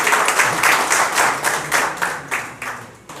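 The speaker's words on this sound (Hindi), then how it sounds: "आप लोग इनका तालियों से स्वागत करेंगे।" A crowd at a BSP party workers' gathering in Delhi claps to welcome a party official, a loud, close burst of rhythmic clapping with a pulsing beat that gradually tapers over about three seconds.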